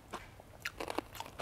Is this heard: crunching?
yes